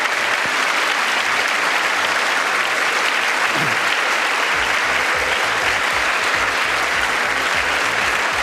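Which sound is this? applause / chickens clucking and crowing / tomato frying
applause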